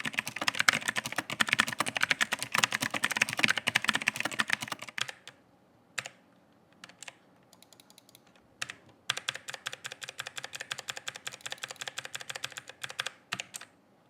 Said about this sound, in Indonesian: berikut ini adalah contoh suara feedback dari switch Logitech G512 Carbon.